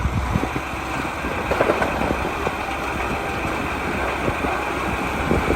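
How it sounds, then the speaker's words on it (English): A red 2022 Ford Bronco Outer Banks hardtop idles nearby with a steady, moderately loud engine rumble, small irregular bumps over the drone, and no voices. "This is the Bronco that we picked."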